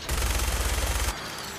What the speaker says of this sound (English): We get a fucking minigun.